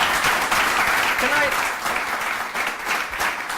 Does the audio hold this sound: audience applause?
yes